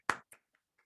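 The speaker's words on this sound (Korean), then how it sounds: "우리 하나님께 감사의 박수 한번 힘차게 올려드리겠습니다." A few hand claps from a congregation at a youth worship service, one sharp near burst followed by a second smaller one and then two faint scattered claps, with no talking.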